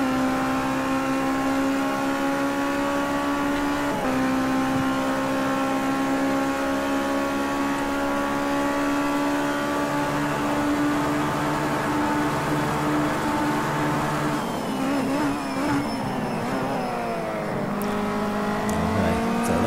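A Ginetta G40 GT5 race car at Indianapolis Motor Speedway in a racing video game drones loudly and steadily at high revs, then the engine note drops and rises again through gear changes and braking near the end.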